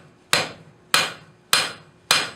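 A blacksmith strikes a bar stock on an anvil while forging a taper, four loud, evenly spaced hammer blows about half a second apart, each ringing briefly before the next.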